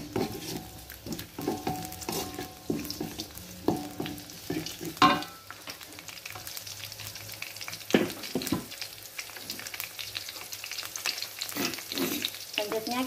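Bruised lemongrass, Indonesian bay leaves and lime leaves sauté in hot oil in a pan, a steady close crackling sizzle broken by scrapes of stirring and occasional utensil knocks, going on without any voices.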